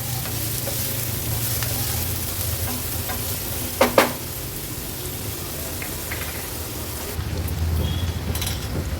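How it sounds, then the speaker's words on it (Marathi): Onions with ginger-garlic paste fry in a pan over a medium flame, giving a steady, dense sizzle with a low hum beneath and a brief clatter of stirring near the middle. "आता कांदा व्यवस्थित आपल्याला मीडियम फ्लेमवर शिजवून घ्यायचा आहे।"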